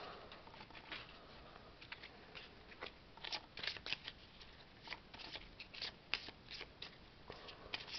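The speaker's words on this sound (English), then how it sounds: "Shuffle the cards." Paper playing cards being shuffled up close, a quiet run of soft riffling flutters and light slaps spread unevenly, with no talking.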